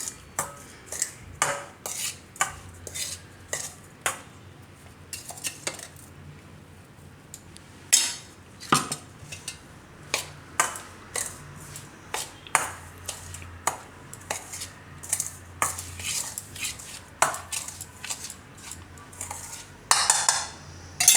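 Sugar and milk powder mixed by hand in a dish for a cashew coconut roll sweet, a spoon repeatedly scraping and clinking against the dish in an uneven rhythm, close and alone.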